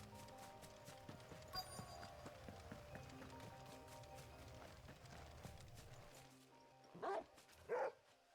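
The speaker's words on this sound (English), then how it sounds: "Bark, bark. Bark, bark." A dog barks in the video game Final Fantasy 16. Two loud, close barks land near the end, after a quieter stretch of game ambience with light footsteps.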